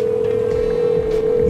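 A steady electronic ringback tone from a phone call in GTA 5 holds on one pitch, loud and unbroken for the whole moment, with faint background noise beneath it.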